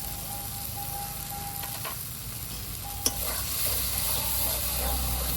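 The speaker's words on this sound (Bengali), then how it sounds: "এই দেখুন গুঁড়ো মশলাটা দেওয়ার পরে মশলা কষিয়ে নিয়েছি আর তেলও ছেড়ে দিয়েছে।" Masala with chilli, coriander and cumin powder frying in oil and stirred in a pan for a cauliflower roast, a continuous close sizzle with a sharp spoon knock partway through.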